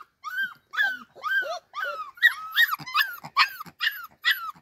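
A puppy growls and whimpers in a rhythmic series of about nine whiny, yelping cries, close and fairly clear with short gaps of silence between them.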